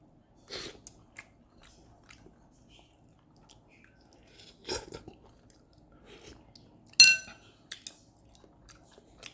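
Someone eats Hawaiian oxtail soup, dipping the meat and eating with the hands. Close, sparse bursts of chewing and biting come with a few light clinks of cutlery against a dish, set apart by quiet gaps.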